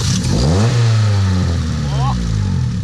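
A modified 795-horsepower JDM car engine revs loud and near with rising and falling pitch, overlaid by heavy speech-like sound.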